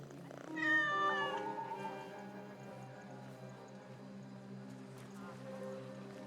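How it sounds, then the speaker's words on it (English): Two cats meow in the Assassin's Creed Mirage video game, one clear, drawn-out meow near the start over a steady ambient game hum that continues alone afterward. "And we are greeted by two cats."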